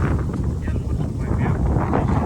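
Strong wind buffets the microphone in a steady, loud rumble during a dark, heavy rainstorm on a rooftop, with a constant rush of rain mixed in.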